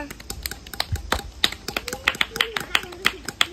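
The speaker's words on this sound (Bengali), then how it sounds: "হাতালি মারো" Small children clap their hands in a village vegetable-matching game, a quick irregular run of sharp, close claps mixed with a voice and light chatter.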